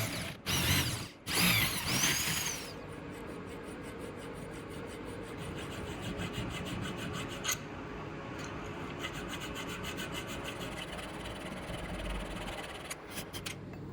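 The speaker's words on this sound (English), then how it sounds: "I file carefully and test fit constantly, making sure this tiny piece of metal behaves" A hand file rasps across a small brass knife guard slot with steady, close strokes. A few sharper clattering knocks come near the start, then the filing continues as a quiet, even scraping.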